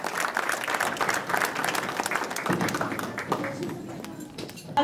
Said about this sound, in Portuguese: uma grande salva de palmas para esta primeira administração do ano